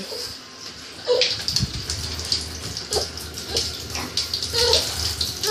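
Water runs steadily from a tap into a bathtub while a baby's bath is being prepared, a close, continuous splashing gush with small sloshing accents throughout.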